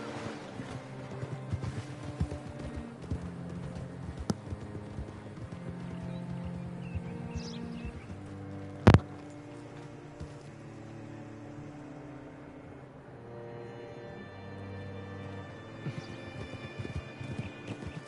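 Horse hooves clop in Red Dead Redemption 2, a steady rhythmic trot beneath a musical score and spoken dialogue, moderately close, with one sharp loud impact midway.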